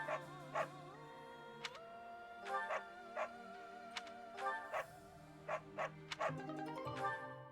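A dog in the video game Fire Emblem Three Houses gives short yips and barks, a string of quick, fairly faint bursts over steady background music.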